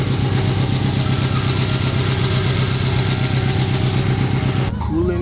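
Subaru WRX engine idling with the radiator cap open while the cooling system is bled, a steady, close, even rumble throughout that cuts off abruptly near the end.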